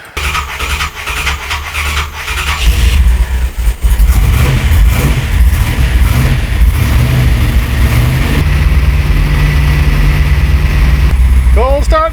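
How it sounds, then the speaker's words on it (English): A carbureted 357 CID V8 in an S10 pickup cold-starting with no choke: cranking gives way to a loud, rough, uneven idle that surges and holds near the microphone, with someone talking over it. "The joys of a cold start with the carburetor and no choke."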